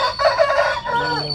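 An Aseel rooster of the Mewat breed crows loudly and close by in one drawn-out, wavering call that trails off, with no talk over it.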